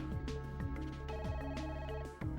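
The save-point telephone in the PS1 game Parasite Eve rings in a steady electronic ringtone, repeating trills with a clean tonal pattern, heard alone without talk.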